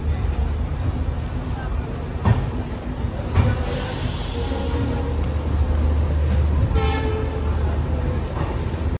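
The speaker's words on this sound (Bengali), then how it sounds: "আমাদের ট্রেন ঠিক রাইট টাইমে গুয়াহাটি স্টেশন দিয়ে ছেড়ে চলে যাচ্ছে।" A train pulling out of Guwahati station on time, with a continuous low rumble of rolling wagons and a couple of short horn toots over steady station and carriage noise.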